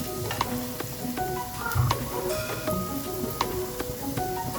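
Shredded ginger and garlic sizzle and fry in butter and oil in a pan while being stirred, with a steady crackle and sharp spatters close to the microphone.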